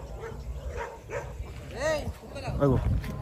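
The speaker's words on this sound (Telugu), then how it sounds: "మస్తు కుక్కలు వచ్చినాయి మా గల్లీలకు." Stray dogs bark in a residential lane, several sharp yelping barks at irregular moments, close by, mixed with people talking.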